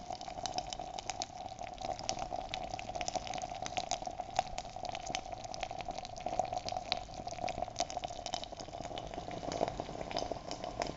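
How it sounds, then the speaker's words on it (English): Salt water boils in a beaker with a steady, faint bubbling and fizzing that continues evenly and alone for about eleven seconds. "Still boiling, you hear that?"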